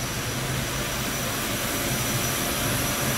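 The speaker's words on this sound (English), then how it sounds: "The pistons are dried using a high pressure blower" High-pressure blower in an industrial washing machine's drying zone, blasting air over freshly rinsed pistons: a loud, steady broadband roar with a low rumble, unbroken throughout.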